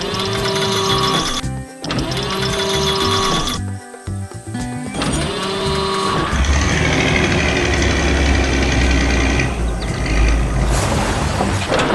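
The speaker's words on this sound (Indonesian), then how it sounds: "Mesin kuning dan mobil perak bekerja dengan cepat" Engines of an animated yellow machine and a silver car run with bright, tonal mechanical whirring in repeated pulses. The sound then becomes a louder, continuous rumbling roar, with no talking.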